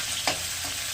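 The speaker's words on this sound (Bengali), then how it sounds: "একটু জিরে আর শুকনো লঙ্কা এই তেলের মধ্যে ফোড়ন দিয়ে দিলাম" Cumin seeds and dried chillies hit hot oil in a kadai for a tempering, giving a steady close sizzle with a brief sharper crackle and stirring scrape, no voices.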